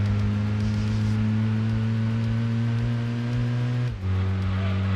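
Peugeot 106 engine in the racing game Gran Turismo 2, a steady, close droning hum held at an even pitch, then a brief dip and drop in revs near the end before it settles again; no talking.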